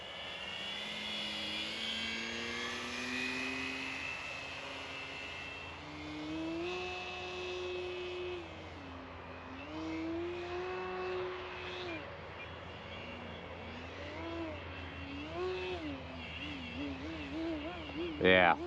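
An E-Flite Extra 300 RC plane buzzes overhead, its electric motor whine sweeping up and down in pitch as the throttle is modulated through aerobatics, moderately distant, with people talking throughout.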